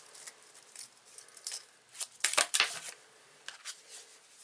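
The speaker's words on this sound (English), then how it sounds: "I'm going to grab another card for this." Tarot cards are shuffled and a card is drawn from the deck. Soft, close papery riffles and slides come in quick bursts, with a denser flurry in the middle and a few light flicks after it.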